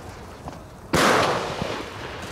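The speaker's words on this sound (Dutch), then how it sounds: "Ja, ik kan ineens goed een normale cake schieten." A small fireworks cake fires in Italy: one loud, sharp burst of cracking pops starts partway in and trails into a crackling, hissy tail, heard up close with no talk.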